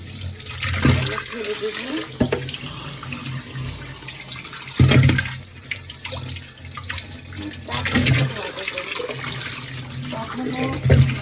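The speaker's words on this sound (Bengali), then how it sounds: "সব সময় ধুবেন, ভালোভাবে ধুয়ে পরিষ্কার করে তারপরে এগুলা করবেন।" Water runs and splashes as food is washed by hand to rinse out small stones before drying and grinding, someone talking over the steady splashing.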